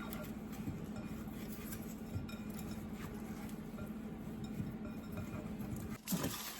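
Pepper-seasoned potato wedges are mixed in a bowl, giving steady soft scraping and faint clinks against the dish that stay quiet and continuous, with a brief louder knock near the end.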